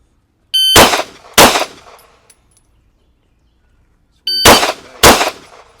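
Handgun shots at a pistol shooting class, fired as two close pairs of sharp, loud reports separated by a few seconds of quiet.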